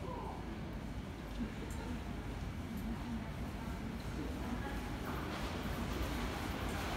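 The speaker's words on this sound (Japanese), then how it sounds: "快特電車の印西牧之原駅通過していきました" A Keikyu limited express train roaring through a station at speed, a loud continuous rumble and rush of wheels and air that stays steady throughout.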